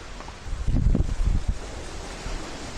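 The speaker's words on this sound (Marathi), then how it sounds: "हा आहे द्वारकेचा समुद्र किनारा" Sea waves washing onto the beach at Dwarka, a faint, wind-blown rush of surf with a slightly stronger swell in the middle and no voices.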